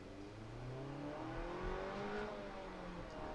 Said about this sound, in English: I'm gonna try a full throttle dig with manual mode on